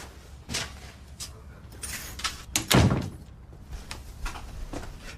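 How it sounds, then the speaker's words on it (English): An indoor door in a police station swings shut with one solid thump near the middle, set among quieter shuffling and small knocks, with faint movement around it. "Close the door."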